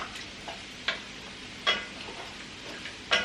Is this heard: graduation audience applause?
no